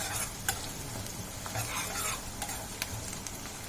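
Onions with salt are stirred in a hot pan, giving a steady close sizzle with occasional soft scrapes and taps of the ladle, continuous and moderately loud, without talking.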